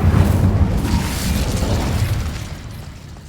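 An Incendio fire spell in a wizard video game, heard as a deep booming whoosh of flame that rolls on and slowly tapers off, with no talking.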